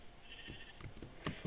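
Sheep bleating in a survival video game, a few short bleats spread across the moment at moderate loudness over quiet game ambience, with no talking.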